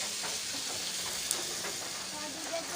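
Fish fry in a pan of hot oil with a constant close sizzle and faint crackling pops, steady throughout with no voices.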